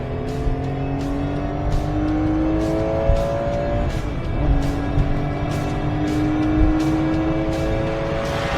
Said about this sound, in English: Downshift and let her rip and we'll get you even closer.